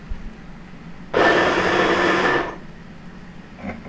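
A blender chopping tomatoes for stewed young beans with vegetables and chicken, a loud whirring motor burst of about one and a half seconds that starts abruptly and cuts off, with quiet room sound before and after.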